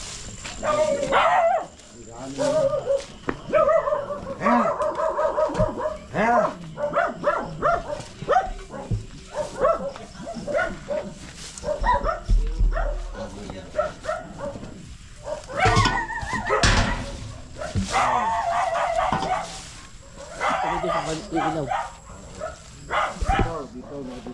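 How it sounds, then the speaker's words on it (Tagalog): A dog barks in short bursts off and on during a nighttime snake hunt near an animal pen, mixed with frequent talking from people searching nearby. "May aso."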